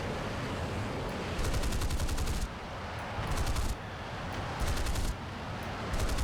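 Four Swedish aircraft cannons in War Thunder fire in sustained rapid bursts, three or four long strings of dense, loud chattering rounds over a steady engine roar, with brief gaps between bursts.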